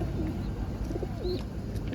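Pigeons coo softly and repeatedly at a market, low throaty calls rolling over a steady background hum.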